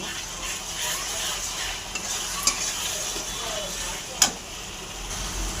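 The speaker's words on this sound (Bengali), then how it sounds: "ভালো করে আদা রসুন ভেজে নিয়েছি" Chicken pieces stir-fried with ginger and garlic in a pan, a steady low sizzle with a couple of sharp spatula clicks against the pan, fairly close and quiet.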